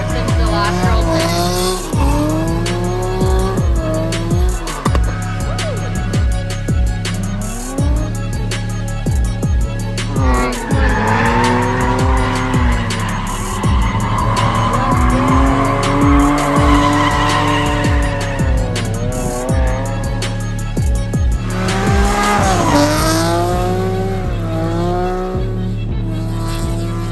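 Drift cars slide around a race track with long, loud tire squeals over roaring engines, the squeal sweeping up and down through several passes.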